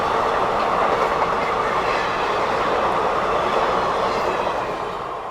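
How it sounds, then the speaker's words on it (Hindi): A special express train speeds past at about 110 km/h, producing a loud, dense roar of wheels and rushing air with steady clatter that eases slightly toward the end, with no voices. "कोई स्पेशल ट्रेन है भाई, 110 की रफ्तार में क्रॉस कर रहा है"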